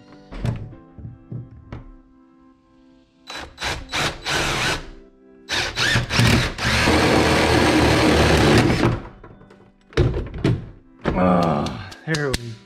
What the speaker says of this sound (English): let's get to this and drill another hole